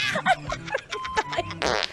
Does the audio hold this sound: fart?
yes